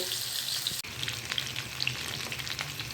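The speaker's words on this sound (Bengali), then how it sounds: "আবারও আমি এটাকে উল্টে দেবো একটু সময় নিয়ে ভাজতে হবে" Pomfret fillets sizzle steadily in a frying pan with gondhoraj lemon, a continuous close crackle and spit of hot oil with one brief break near the start, no voices.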